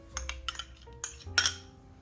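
Warmed strawberry jam is spread over a cake with metal utensils, producing a few close, sharp clinks and scrapes in an irregular rhythm, with no talking.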